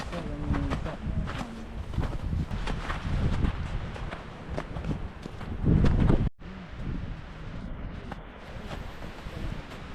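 Strong wind gusts roar steadily against the microphone on a winter mountain camping hike, with rustling and footstep-like crunches, one brief dropout, and continued blustery rushing afterward.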